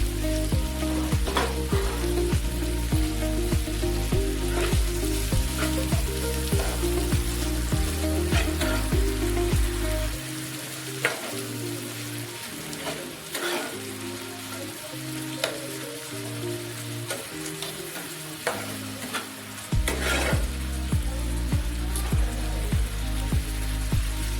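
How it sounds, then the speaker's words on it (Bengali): Onions fry slowly in oil in a pan for a chicken momo filling, a steady sizzle broken by regular scraping and stirring strokes, interrupted by quieter stretches, with no speech. "কিছুটা তেল নিয়ে পেঁয়াজগুলিকে প্রথমে ভেজে নেব পেঁয়াজগুলিকে খুব ভালোভাবে আস্তে আস্তে ভাজতে হবে"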